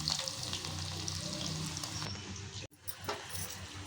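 Onions frying in hot oil for cucumber curry give a close, steady sizzle and crackle, broken by a sudden cut and then a softer sizzle with stirring sounds, with no voices.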